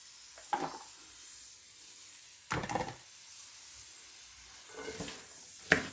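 Shallots and onions sautéing in a pan, a low steady sizzle broken by a few louder bursts of stirring and scraping against the pan.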